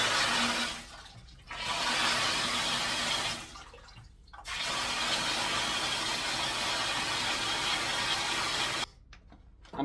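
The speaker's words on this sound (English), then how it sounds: "I'm going to turn the water on from the outside and the main valve on" Water rushes through house pipes after the main valve is opened to flush out sediment, a loud steady hiss that cuts off briefly several times as the flow is switched on and off.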